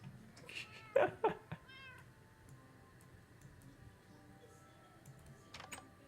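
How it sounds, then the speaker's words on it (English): Minecraft cats meowing in a video game, a few short, close mews in quick succession near the start, followed by quieter game ambience and faint keyboard clicks. "So many cats."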